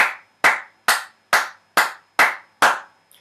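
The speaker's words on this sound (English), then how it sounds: "You see that you can actually clap that rhythm also." Seven sharp hand claps ring out alone in an even, steady rhythm, each clean and close with a short decaying tail, demonstrating a simple musical beat.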